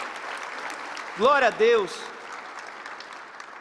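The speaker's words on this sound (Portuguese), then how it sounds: "aplauda o nome do Senhor." A church congregation claps through a Portuguese-language sermon, a steady patter of applause with a voice loudly calling out praise over it.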